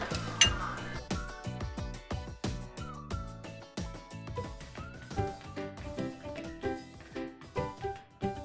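Deviled shrimp, camarones a la diabla, being plated, with rapid bright clinks and clatter of dishes and cutlery close by, irregular and busy throughout.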